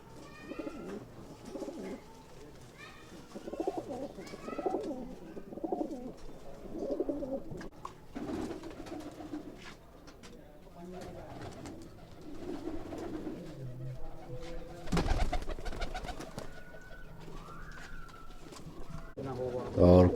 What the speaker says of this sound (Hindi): थोड़ा डर रहे हैं भाई कबूतर, क्योंकि बाहर से जब कोई आदमी आता तो थोड़ा डर जाते हैं कबूतर।